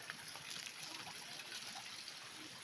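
Spring water flows from the ground at a rural water-fetching spot, a soft, steady trickling and gushing heard faintly and alone.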